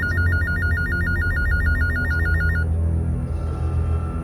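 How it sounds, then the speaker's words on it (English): A telephone rings in a sci-fi horror narration, its warbling electronic trill pulsing rapidly and evenly for over two seconds, then stopping, over a constant low hum and background drone. "A phone call woke me up."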